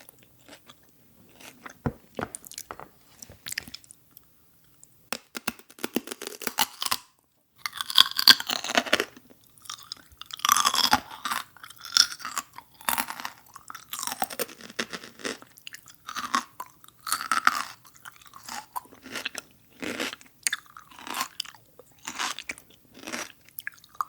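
Close-miked ASMR eating of crunchy celery, apple and grapes, with repeated crisp bites and wet, crackling chewing that come in bursts between brief quiet pauses and no talking.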